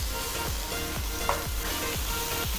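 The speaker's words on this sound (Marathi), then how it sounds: "थोडंसं 2 मिनटं परतून घ्यायचं आहे" Kolhapuri mutton masala sautéed in a pan gives off a close, steady sizzle, broken by regular scraping stirs about every half second and one brief sharp clink.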